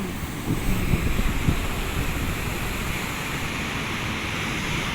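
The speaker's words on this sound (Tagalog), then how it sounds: "talagang malalaki pa rin ang alon" Heavy surf of six-foot waves roars steadily onto a beach, a continuous broadband wash of large waves with wind rumble, no voices, loud and close throughout.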